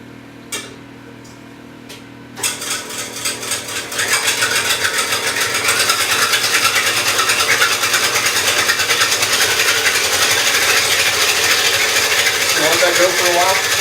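A food processor mixes keto bread batter with cream of tartar. A few clicks and rattles come first, then the motor runs up to a loud, steady whir with a fine rapid clatter that continues to the end.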